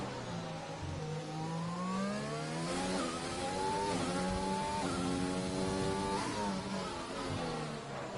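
Several race cars in a racing video game scream through their final lap, engines rising and falling in overlapping pitch sweeps as they pass, a continuous loud roar with no talking.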